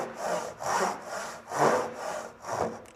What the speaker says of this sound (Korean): 이 상태에서 톱을 넣으시고 두 선을 동시에 같은 비율의 길이로 톱질을 해서